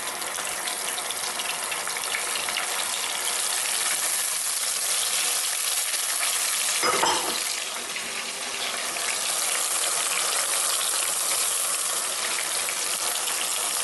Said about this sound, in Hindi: इसको हम सौते कर लेते हैं अच्छी तरह से